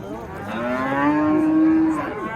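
A young bull lets out a single long, deep moo at a livestock market in Olot, Bukhara, loud and close, rising and holding steady before trailing off.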